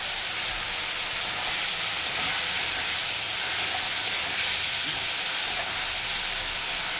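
Spice paste hitting hot oil gives a steady, close sizzle, a dense broad hiss that holds evenly from start to finish with no one talking.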